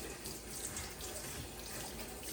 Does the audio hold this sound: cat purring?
no